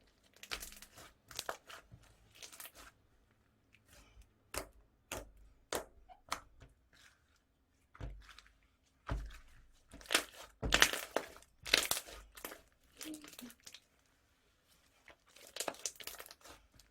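Soft, close crackling and crinkling of iceberg slime in short irregular bursts separated by pauses, like sticky material popping as its slightly hardened surface is pressed.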